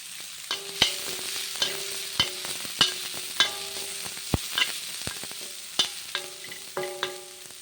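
Curry leaves crackle in hot oil with onions in a pan, a close sizzle punctuated by repeated sharp metallic spoon taps and scrapes in an irregular rhythm, with no voices.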